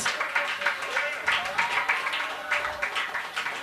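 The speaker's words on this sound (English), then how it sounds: "Round of applause for all round two" Applause from the crowd at a poetry slam in an arts bar swells and dips as a steady roar of clapping, while a voice speaks over it at moments.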